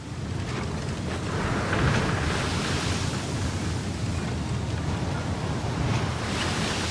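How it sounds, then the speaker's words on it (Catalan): Cold grey ocean waves roll and wash around a small 99-ton halibut boat at sea, a loud, steady roar of surf mixed with wind buffeting the microphone, with no voices. "Una gèlida i grisa caldera d'onades s'alça sobre els nostres caps."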